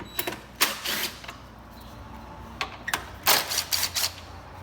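A 10mm socket wrench works loose the top headlight bolts on a 2013-2015 Honda Accord. Sharp ratcheting clicks come in short, irregular bursts up close, with quiet pauses between them and no voices.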